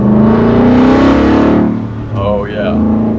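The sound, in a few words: Coyote V8 engine in 1970 Ford F100 at wide open throttle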